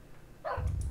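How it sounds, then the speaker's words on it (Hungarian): A dog barks once in a Minecraft puzzle map, a short, moderately faint game sound effect with no talking. "Miért ugatsz itt?"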